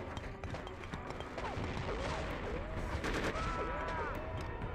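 Gunfire in the PS2 military shooter Conflict: Desert Storm 2, a steady barrage of overlapping shots and bursts running loud throughout, with voice-like game chatter mixed in.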